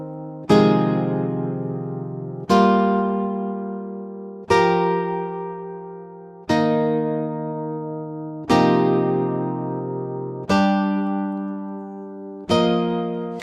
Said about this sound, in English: all the notes that are being played randomly are all within the scale